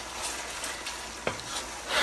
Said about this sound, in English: Now we are frying the onion in this stage.